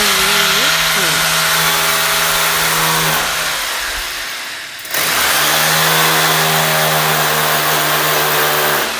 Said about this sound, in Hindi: तो ये ली इन्होंने ड्रिलिंग मशीन और ये करना